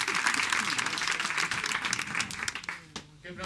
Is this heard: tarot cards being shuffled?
no